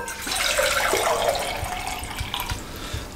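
Water poured into a pressure cooker holding beef for a karahi, a steady splashing pour that runs continuously and fairly loud, with no talk over it.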